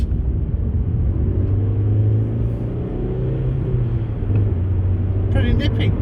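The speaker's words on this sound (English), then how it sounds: "I can hear the road noise from the tyres" Steady low tyre roar from the road fills the cabin of a small Spanish-built courtesy car while it drives along, a constant rumble with a faint engine hum beneath it and nothing else standing out.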